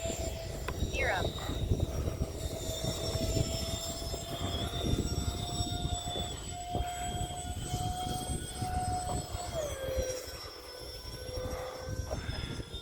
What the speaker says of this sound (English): All right, two A-10s in the air.